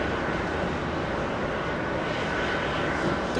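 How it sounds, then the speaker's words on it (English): An Aeromexico Boeing 737 MAX 8 jet arriving at JFK from Mexico City, heard as a steady, broad engine roar that holds at an even level throughout, with no voices over it. "That's a 737 MAX 8 flying in from Mexico City."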